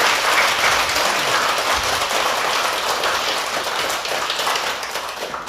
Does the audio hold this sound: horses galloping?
no